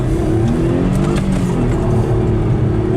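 A car engine revs steadily and loud up close on ice, a continuous accelerating drone with layered harmonics and no talking.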